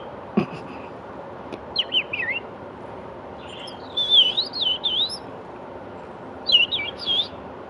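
Pet parrots chirp indoors in short bursts of high, warbling tweets, several separate calls spaced over a few seconds over a quiet background.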